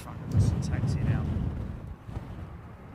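An Airbus A380 airliner at London Heathrow fires up its engines before taxiing, heard as a low, distant rumble with wind buffeting the microphone.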